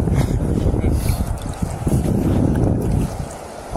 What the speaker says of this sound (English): because that's so shit, it's so windy.